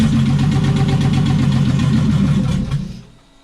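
A tuned Infiniti G35 being fired up, its engine idling rough and steady at close range with a pulsing low rumble and a leaning-out, exhaust-leak edge, then dying away after about three seconds.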